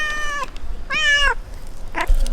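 Cats on the island of Santorini, Greece, meow loudly and close up, giving three distinct drawn-out mews in a row, each separated by a brief pause.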